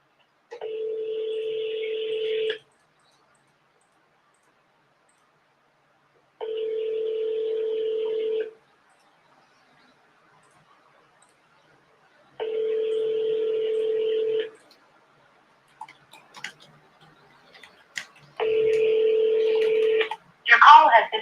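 Outgoing telephone call, with four steady ringback tones of about two seconds each, spaced evenly and clear, followed by brief clicks and a burst of noise as the line connects.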